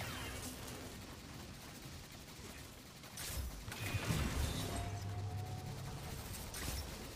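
Gunfire in Destiny 2's Spire of the Watcher raid as shots are fired at nodes, rapid bursts and bangs over a steady game ambience and background music, growing louder partway through.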